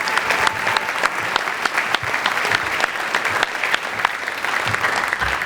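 Sustained applause from an audience of seniors at a school awards night, dense and steady with sharp individual claps throughout, filling the whole stretch without pause.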